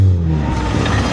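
A 13B rotary engine in a BMW E36 ute revs loudly and close, a brief buzzing surge that holds steady and rough for about a second.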